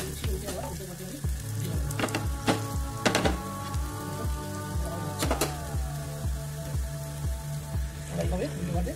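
Potato and chana dal pakoras frying in hot oil, a steady crackling sizzle with rhythmic tapping and scraping of a utensil against the pan, close and moderately loud, with a few sharper clinks.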